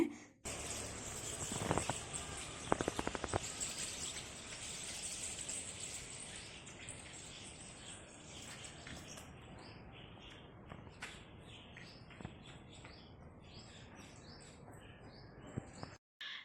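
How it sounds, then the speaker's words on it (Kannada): Faint morning birdsong, scattered chirps and tweets in the distance over a quiet outdoor hiss, with a few clicks and knocks nearby. "ಇವತ್ತು ಬೆಳಿಗ್ಗೆ ಎದ್ದ ತಕ್ಷಣ ಫುಲ್ ಹಕ್ಕಿಗಳು ಚಿಲಿಪಿಲಿ ಸಿಕ್ಕಾಪಟ್ಟೆನೇ ಕೇಳ್ತಾ ಇತ್ತು"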